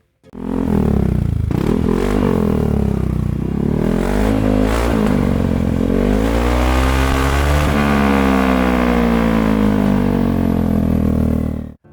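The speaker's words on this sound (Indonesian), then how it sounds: "Langsung aja kita dengerin suara mesinnya ya." Close, loud engine revving from a modified Yamaha XMAX 300 scooter fitted with a Yamaha Factory ECU, with throttle blips that rise and fall and then a long sustained rev, all without voices.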